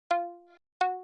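Synth pluck for an R&B sample, two bright tonal plucks about three quarters of a second apart, each with a sharp attack and a short decaying ring, alone and close.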